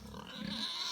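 A pig grunts briefly out in a farm pasture, a short, faint, rough snort heard alone.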